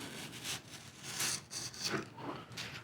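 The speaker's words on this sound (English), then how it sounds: "So we're going to take it to the edge of the table and cut our 45 degree bevel." A blade cuts a 45-degree bevel along a foam board edge at a table, giving soft, rasping scrapes in a few rhythmic strokes, close and quiet.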